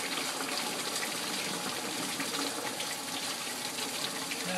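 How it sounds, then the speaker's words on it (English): Water runs steadily into a unit being filled, a constant broadband rush like a tap gushing into a tank, close and unchanging throughout with no voices. "the water's still filling up inside here"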